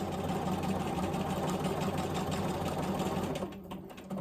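A sewing machine stitches free-motion quilting of a spiral flower design, a close, loud, rapid steady whir of needle strokes that slows and stops near the end.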